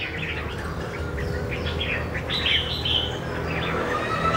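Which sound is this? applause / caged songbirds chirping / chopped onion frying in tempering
caged songbirds chirping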